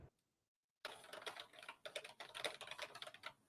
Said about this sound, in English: Are you typing while on my live?